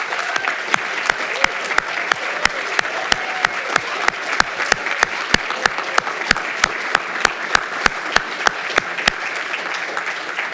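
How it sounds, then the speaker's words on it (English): An audience at a graduate awards ceremony claps in a sustained round of applause for the awardees, with crisp individual claps standing out over dense, steady clapping throughout. "If we can give them another round of applause."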